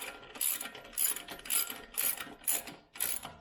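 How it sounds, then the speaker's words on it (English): Lug nuts go back onto the front wheel of a 2006 Lexus IS350 after a brake pad and rotor job, with a ratchet clicking in about seven evenly spaced, crisp bursts at close range and no voices. "now it's just a matter of putting all the lug nuts back on"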